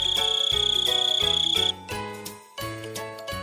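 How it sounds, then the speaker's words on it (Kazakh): A grasshopper chirps in a steady, high-pitched, rapidly pulsing trill for about half the clip, then stops, with light tinkling music continuing underneath throughout. "Шегіртке."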